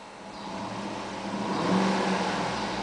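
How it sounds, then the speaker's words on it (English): A black used 2008 Cadillac Escalade SUV engine is revved at a dealership, a steady mid-pitched motor hum rising gently in loudness toward the end, with no voices. "I'm gonna go ahead and rev it"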